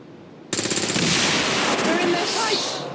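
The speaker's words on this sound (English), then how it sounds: "Just going to shoot the claymore." A claymore mine detonated by gunfire in the video game XCOM 2 erupts suddenly after a quiet half second into a loud, sustained burst of rapid shots and explosive crackle that lingers to the end.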